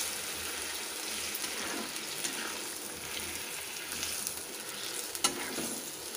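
Pumpkin and greens curry cooking in a pan, a soft continuous bubbling sizzle at low level, steady throughout with a faint clink near the end and no talking.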